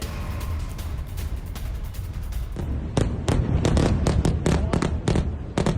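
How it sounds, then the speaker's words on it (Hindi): Airstrike explosions in Beirut at night: a rumbling background of distant blasts, then a rapid cluster of sharp, loud bursts and cracks in close succession during the second half. "रात भर हवाई हमले होते रहे।"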